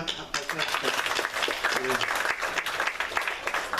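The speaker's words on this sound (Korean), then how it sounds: "박수" A church congregation applauds during a Sunday worship service, a broad continuous roll of clapping from many people filling the room, with a voice briefly audible beneath it.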